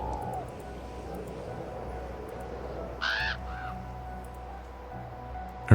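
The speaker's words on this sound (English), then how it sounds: "I hear crows. I hear the caws of something." Crows in the Nancy Drew game Warnings at Waverly Academy give one short caw from some distance over a steady outdoor game ambience, with no one talking.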